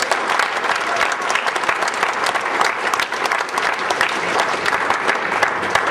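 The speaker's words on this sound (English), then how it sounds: "Let's give him a big round of applause." Steady, dense applause from a crowd in an indoor boxing class setting, continuous and loud throughout with no pauses.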